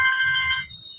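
A phone rings with a bright electronic warble that pulses for about two-thirds of a second and then cuts off. A faint low murmur sits underneath.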